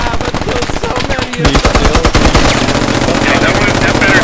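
An MG3 machine gun fires in Squad in long, rapid bursts of sharp shots, loud and close, with a short gap before the firing resumes and scattered battle noise behind it.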